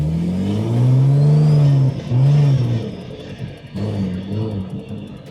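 A Mercedes fitted with a turbocharged Toyota Supra engine and an aggressive cam creeps along at low speed, its deep engine drone rising and falling with throttle blips, loud and close.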